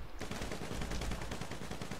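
Rapid gunfire from GTA V Online during a Doomsday Heist mission: dense, continuous bursts of shots with a heavy low thump, loud and close throughout.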